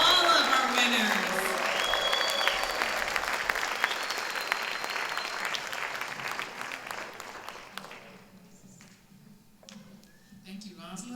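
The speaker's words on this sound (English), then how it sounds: "Keep on clapping for all of our winners." An audience applauds winners at a Martin Luther King Jr. Day event, a loud, dense patter of many hands that slowly thins and fades, with a voice speaking over it.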